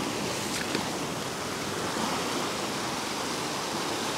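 Sea waves breaking on the shore during morning lure fishing from the beach, a dense, steady roar of surf that fills the whole stretch without pause.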